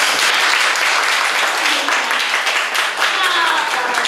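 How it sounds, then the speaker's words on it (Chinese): An audience at a philosophy talk in Taichung gives warm applause to three speakers, with steady, dense clapping throughout and no talking over it. "我们给这三位主讲者一个热烈的掌声"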